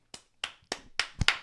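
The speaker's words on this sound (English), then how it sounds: "All right, come on, let's clap." Morning radio show studio: a few sharp hand claps ring out one after another, sparse and close, the last two coming quickly together, with no talking.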